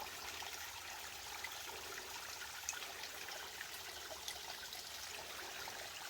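Small waterfall beside the Appalachian Trail in Georgia, a steady, faint, hissing wash of falling water with no breaks, heard alone at a little distance.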